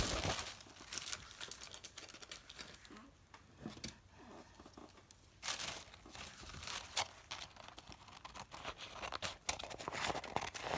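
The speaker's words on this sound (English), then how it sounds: "And actually I'm going to cut off the excess first." Craft material for Halloween ruffle embellishments is cut and handled close up, with quiet crinkling, rustling and short snipping sounds scattered irregularly throughout.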